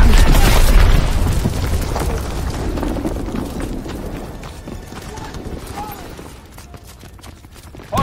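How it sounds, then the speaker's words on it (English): A heavy bomb explosion in the World War II shooter Call of Duty WWII opens loud and close with a deep boom, then its rumble slowly fades into a quieter battlefield. "Enemy bomb incoming."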